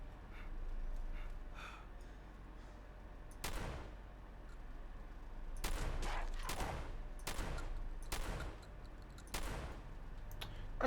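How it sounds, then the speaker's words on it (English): A shotgun fires in a video game: about seven sharp, loud blasts, single at first and then in a quicker irregular run, over a quiet background. "I'm shooting with a shotgun"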